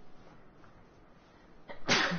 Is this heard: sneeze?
yes